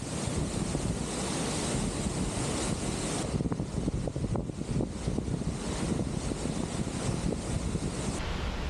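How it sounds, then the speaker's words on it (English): Steady roaring wash of the Sargvossen waterfall in Norway, dropping 575 metres in four cascades, loud and constant, with a windy rumble throughout and no voices. "A little further up the field is the Sargvossen waterfall."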